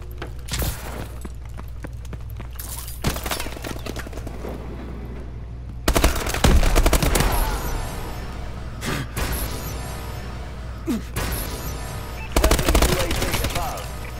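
Automatic gunfire from a Call of Duty: Advanced Warfare Team Deathmatch match on the Detroit map, with loud, rapid bursts separated by short pauses and several heavier volleys.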